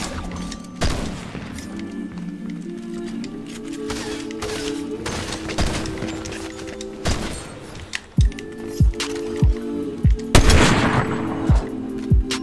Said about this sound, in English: You do not want to mess with that shotgun